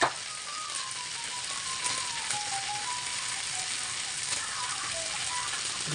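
Tortang talong, an eggplant omelette, deep frying in hot oil, giving a steady, close, even sizzle and crackle throughout with a voice speaking faintly over it.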